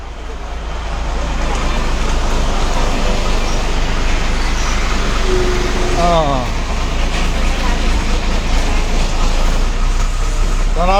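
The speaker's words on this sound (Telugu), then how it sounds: "తెనాలి బస్సు బయలుదేరిందిగా" A Tenali-bound bus pulls out of the Vijayawada bus stand, its loud, steady engine rumble mixing with surrounding traffic noise for the whole stretch, while people talk nearby.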